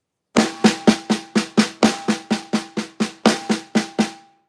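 A fast drum fill of two paradiddle-diddles and a paradiddle, about fifteen evenly spaced strokes in a steady driving rhythm, close and loud, ringing briefly at the end.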